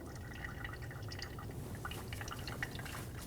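Clear brake fluid dripping from an opened bleeder valve into a catch bottle while bleeding the brakes on a 2012–2022 Volkswagen Passat; faint, irregular small drips over a steady low hiss.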